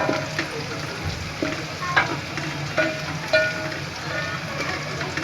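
Onions for aloo gobhi frying to light brown in a pan, a continuous close sizzle with a spoon stirring and scraping through it every second or so.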